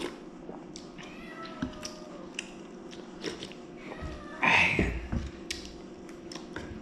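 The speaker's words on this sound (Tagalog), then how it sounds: "Ang hihingi na yung pusa." A cat meowing for food near someone eating soup, giving a short, clear meow midway amid quiet chewing and light clinking noises, close by.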